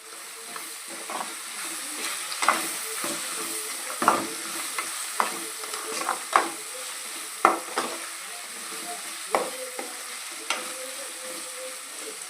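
Slit green chilies fry in hot oil under a constant soft sizzle, with repeated sharp spoon scrapes and knocks against the pan every second or so, close and moderately quiet.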